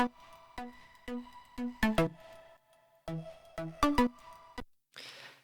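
A couple of basic layered synth parts play short plucked notes in a bouncy, stop-start rhythm, two similar phrases in a row, closing on a brief noisy swell.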